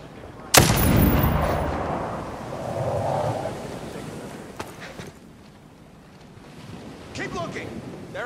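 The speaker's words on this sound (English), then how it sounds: "Shots fired, soldiers!" Sniper gunfire in Ghost Recon Breakpoint at an enemy harbour: one sharp, loud shot opens, followed by rumbling echo and washing water or wind, with a fainter crack midway and a few more transients near the end.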